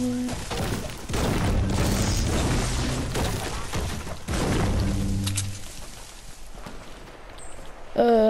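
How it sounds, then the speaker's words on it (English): Several heavy sniper shots booming in a video game, each a sharp, loud report with a lingering rumble, spaced a few seconds apart with quieter stretches between, and a voice speaking briefly at the end. "Sniper shots?"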